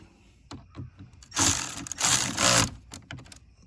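A ratchet wrench tightens the battery terminal on a Chrysler Pacifica start/stop battery, with a few sharp clicks followed by two bursts of rapid ratcheting, then more scattered clicks, close and clear.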